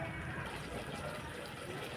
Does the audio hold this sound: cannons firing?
no